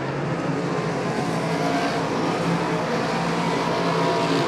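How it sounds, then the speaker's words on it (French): A race car entering the pits roars loudly and steadily as a dense engine drone with broadband rumble, holding at constant intensity across the whole stretch without pauses. "Mathieu Desjardins avec la 1X rentre dans les puits de ravitaillement"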